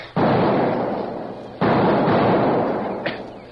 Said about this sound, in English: A moment later, there were several small explosions.